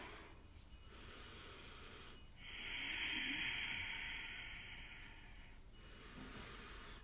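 Slow breathing in yoga child's pose (Balasana) during a vinyasa flow: a soft, airy exhale swells in the middle and fades, with quiet room hiss around it and no talking.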